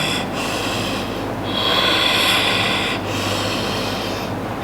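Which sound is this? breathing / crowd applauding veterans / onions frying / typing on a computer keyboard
breathing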